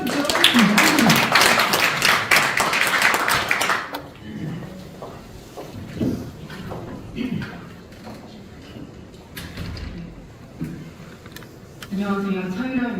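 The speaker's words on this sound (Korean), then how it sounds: "우리 다시 뜨거운 박수로 차이라님 모셔보고 축하드리도록 하겠습니다." Audience applause in a conference room at the National Assembly members' hall, with dense clapping for the first four seconds, then scattered claps and faint room noise before another brief stretch of sound at the end.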